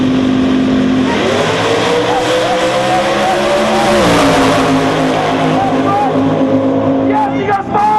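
A nitrous small block Chevy and a supercharged 1990 Mustang with a 380 cubic inch F2 ProCharger race on a drag strip. Engines roar loudly, revs climbing and shifting, while an announcer talks over them.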